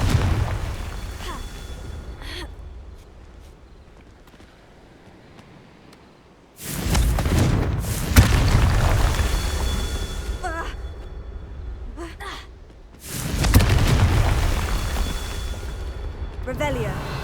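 Confringo fire spells in the Hogwarts Legacy video game go off in two big booming explosions, each a heavy roaring blast that slowly dies away. Softer magical crackles and chimes fill the stretch between them.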